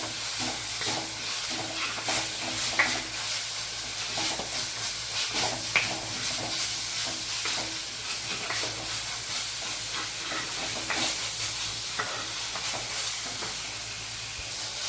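Ginger and garlic paste is being stirred into a sizzling fish curry base, with a continuous hiss of frying oil and faint scraping of the spoon in the pan, close and steady throughout.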